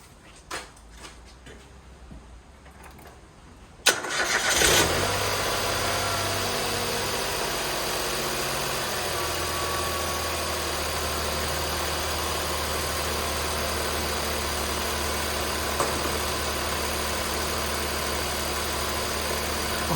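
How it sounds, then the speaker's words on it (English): Nissan Micra K13 with HR12DE engine cranks briefly and catches, then settles into a steady, smooth idle with a continuous low hum close by, no talking. "so engine's running fine, no issues there, no vibrations"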